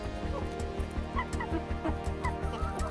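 Jubilee Orpington chickens cluck close by in a steady, busy chorus of short overlapping clucks and soft murmurs as they are fed, with no voices.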